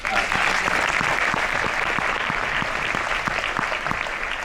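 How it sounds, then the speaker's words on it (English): A crowd applauds steadily, a dense wash of clapping at an even level throughout, with no voices over it. "I do think it's worth a round of applause"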